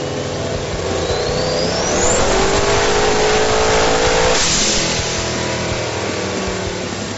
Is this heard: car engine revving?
yes